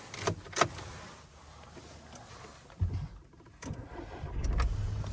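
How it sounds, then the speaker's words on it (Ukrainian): A Volkswagen Golf Plus with automatic transmission starts up, a short cranking burst followed by a low engine rumble that builds toward the end, heard fairly faint among small clicks and handling noises. "Так, Давайте запустимо двигун."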